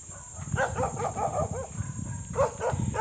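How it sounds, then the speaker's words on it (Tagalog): Several guard dogs bark in short repeated bursts at moderate distance near a gate, over steady background noise and footsteps. "Marami po kaming mga aso dito"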